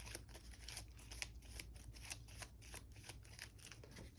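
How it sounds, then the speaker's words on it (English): A deck of game cards is riffled and shuffled in quick, repeated papery flutters and snaps, faint and close, with no voices over it. "So I need to shuffle these up."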